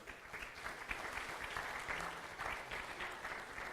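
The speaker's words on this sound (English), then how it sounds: "Give her a round of applause" A crowd applauds steadily, a dense wash of clapping hands that holds at an even level for several seconds.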